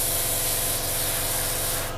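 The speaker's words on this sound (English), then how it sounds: "we're just going to spray the seams" Steady, continuous hiss of spray paint or airbrush being applied to the seams of a Hasegawa 1/48 scale Draken model kit, loud and close, cutting off near the end.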